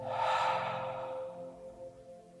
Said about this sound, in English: Now inhale through the nose and exhale through the mouth.